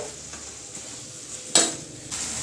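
Masala spices fry in oil in a pan while a spoon stirs them, giving a steady close sizzle with a sharp metallic scrape partway through, and no voices.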